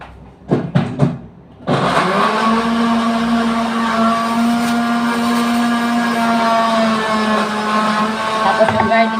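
A blender whirs loudly and steadily as it blends a malunggay collagen drink with black pepper, starting after a few brief knocks and holding a constant motor drone to the end.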